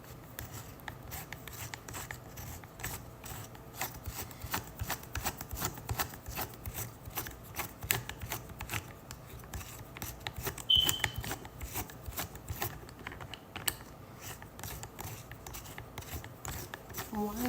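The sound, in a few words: adjusting phone on a stand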